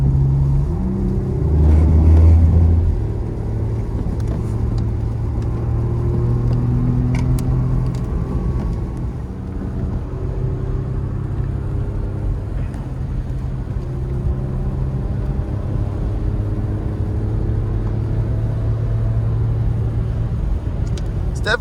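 A 2017 Porsche Macan S drives and accelerates on the road, heard from inside as a steady low engine drone and rumble with some tire and road noise, and someone talks over it.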